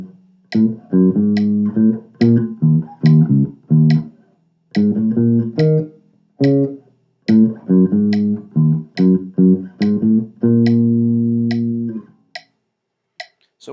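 A slowed-down funk bass line plays on solo jazz bass as a run of short, punchy plucked notes in choppy rhythmic groups with brief gaps between them, loud and close, ending on a longer sustained note.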